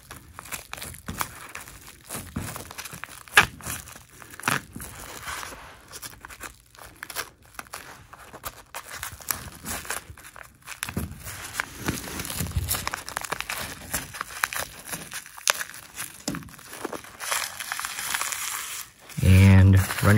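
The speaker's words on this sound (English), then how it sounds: "Push down, pull back, and push forward, setting that tape underneath that trim, just like that." Masking tape is pressed down and pushed beneath baseboard trim above carpet, producing close crinkly rustles and scrapes throughout, with a louder burst at the very end.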